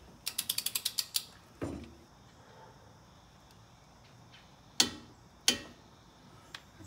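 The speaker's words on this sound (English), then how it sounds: "now I'm going to tighten this nut down to 25 foot-pounds. Using my torque wrench." A torque wrench tightens a nut on a wheel bearing with a quick run of sharp ratcheting clicks at close range. A few isolated louder clicks and clunks follow against a quiet background.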